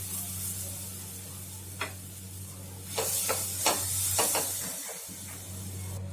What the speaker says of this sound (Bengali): এইবার ছানাটাকে আমি কড়াইতে দিয়ে ভালো করে শুকিয়ে নেব।